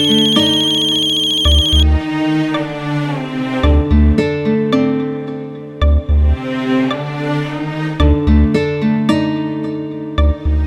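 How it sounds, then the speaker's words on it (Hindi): A phone ringtone plays a repeating electronic melody, loud and close, ringing on without any voices. "किसका फोन था कुसुम?"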